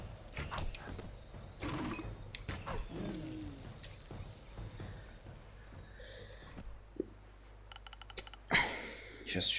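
Wolves snarl and growl in Kingdoms of Amalur: Reckoning, a fantasy role-playing game, with rough bursts amid creaks and scuffling, ending in a louder harsh flare.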